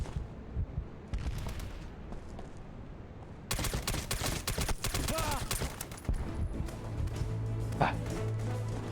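Bursts of gunfire and heavy shooting from the video game SOCOM US Navy Seals II, with dense volleys and scattered shots layered over the game's ambient sound effects.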